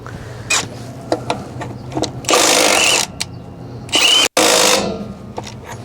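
Milwaukee 2962 mid-torque impact wrench run at speed 3, close-up bursts of hammering whir starting and stopping, with a few longer sustained runs and brief clicks between them.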